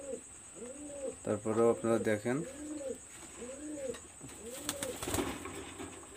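Teddy pigeons, a Khulna-collected pair from a pure imported bloodline, coo in repeated rising-falling phrases at close range, with a brief burst of clucking calls partway through and someone speaking briefly over them.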